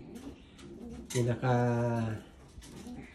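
Domestic pigeons cooing in a breeder's loft near their nests, a deep rolling coo building to a loud sustained burst in the middle, with quieter calls before and after.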